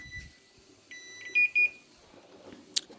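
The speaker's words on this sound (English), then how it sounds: "Now that's the timer on my hob." A kitchen hob timer gives short, faint electronic beeps, two clearer pips close together amid quiet kitchen clatter, with a brief sharp knock near the end.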